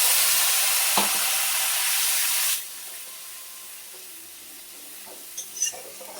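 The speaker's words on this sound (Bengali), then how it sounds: "এবারে কাশ্মীরি লঙ্কা আমি হচ্ছে তেলের মধ্যে আগে দেব, কালারটা সুন্দর হওয়ার জন্য।" Kashmiri chili and spice paste hits hot oil with a loud, dense sizzle and spatter for a couple of seconds, then settles into a quieter steady frying hiss with a few light scrapes near the end.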